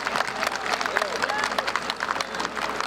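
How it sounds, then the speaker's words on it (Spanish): Guests at a quinceañera party applaud, a dense and steady wash of clapping from a crowd that continues throughout, with voices and cheering mixed into the noise. "Fuerte los aplausos, fuerte los aplausos para la quinceañera."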